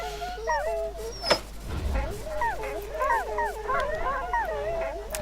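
Dogs in the video game Wasteland 2 whine, yip and howl continuously in overlapping, wavering cries at close range.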